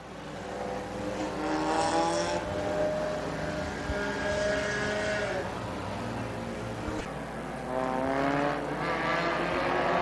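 Stinger race cars howl around the dirt oval at Dixie Speedway, engines rising and falling in long sweeping passes, loud and continuous with crowd and announcer noise mixed underneath.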